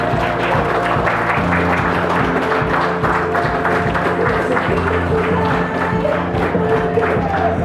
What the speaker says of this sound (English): Let's give a round of applause for our bridal party